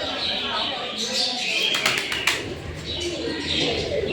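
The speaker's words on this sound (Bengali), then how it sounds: "এখানে রয়েছে একদম দেশি পায়রা" Soft cooing of native domestic pigeons amid a busy bird-filled ambience, with a few sharper chirps and some wing flutters, heard under speech.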